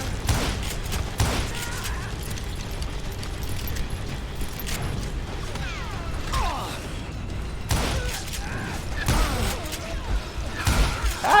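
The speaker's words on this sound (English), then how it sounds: "Ah, who is shooting me and where?" Gunshots ring out in a Call of Juarez Gunslinger cave hideout, scattered bursts of gunfire with mechanical creaks and clatter over a busy game soundscape, louder bursts near the end.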